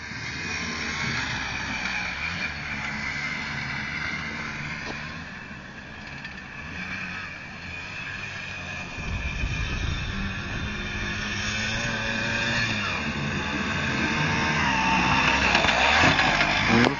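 A Jawa Mustang motorcycle engine revving up through the gears, a steady buzzing drone that rises in pitch, dips at a shift and climbs again, growing louder toward the end.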